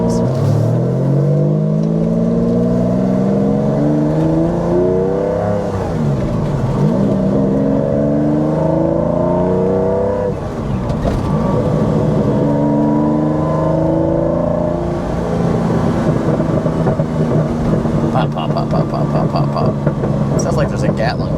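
A 1997 Lamborghini Diablo's V12 engine roars loudly from inside the car, its pitch sweeping up through repeated gear changes, with a voice talking over the engine.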